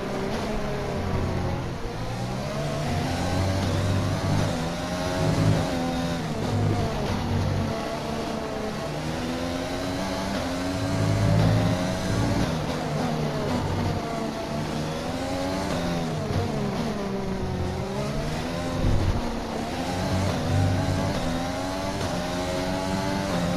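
A race car engine in a racing game revs and accelerates with a loud, continuous whine, its pitch rising and falling through gear changes over about twenty seconds.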